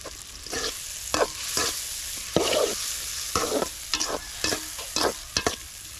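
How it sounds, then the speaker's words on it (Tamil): Lemon pickle masala is stirred in a pan over a low flame: a soft, steady sizzle broken by a series of close, scraping spoon strokes at an uneven rhythm, with no voices. "தீ வந்து அதிகமாக வைக்க வேண்டாம் சிம்மிலே வச்சுக்கிட்டு இது மாதிரி வந்து கலந்து விடுங்க"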